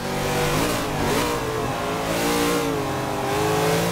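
Corvette Stingray A-class build in Forza 5 accelerating hard out of a circuit corner, its engine note climbing and falling in a steady loud revving drone with shifting harmonics, heard alone throughout.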